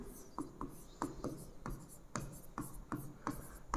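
Chalk or marker writing on a classroom board, with quick rhythmic strokes and taps in short regular bursts, close but fairly quiet against a faint room background.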